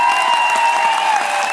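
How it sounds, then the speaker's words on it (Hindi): A hall audience at a motivational business talk claps together in a dense, steady burst of applause, loud and close, without any speech over it. "एक बार जरा अपनी तालियों से, अपनी आवाज से, अपने उत्साह से पता चलना चाहिए"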